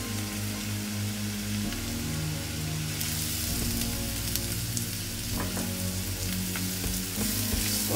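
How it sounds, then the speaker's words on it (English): Garlic and onions sauté together in a pan, giving a steady, moderately loud crackling sizzle that runs throughout without a break. "Saute also nicely"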